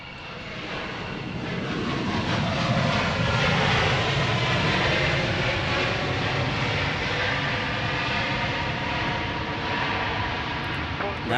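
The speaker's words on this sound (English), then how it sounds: "Nice max landing there." Boeing 737 MAX airliner landing at Portland International Airport: a loud, steady jet engine roar that swells in the first seconds and holds, with voices talking beneath it.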